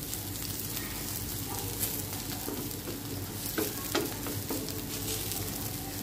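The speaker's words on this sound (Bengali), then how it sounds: "আরো 2 থেকে 3 মিনিটের মতো নেড়েচেড়ে আমি চুলো থেকে নামিয়ে নিব" Sola kochu, a taro, fries with coconut in a pan under a constant dense sizzle, broken by a few soft clacks of a spatula stirring, with no talking.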